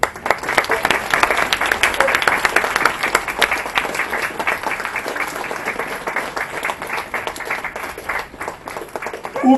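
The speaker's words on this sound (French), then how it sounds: "On peut applaudir." A crowd applauds at an outdoor ceremony marking the centenary of the 1918 Armistice, with sharp individual claps within a sustained round that thins slightly toward the end.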